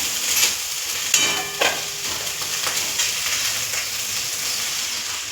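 Food being stirred and sautéed in a pan on the stove, a steady frying sizzle with a few sharper scrapes of the spoon near the start, continuous and fairly close with no talking.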